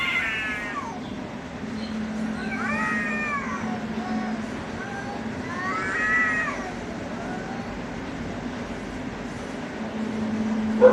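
Cats yowl and wail in drawn-out, rising cries, a few separate howls over a low steady hum in the background.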